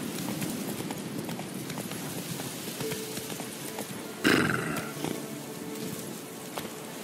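Horse hooves clip-clop steadily in The Witcher 3, with a brief, louder burst of neighing partway through over continuous game ambience.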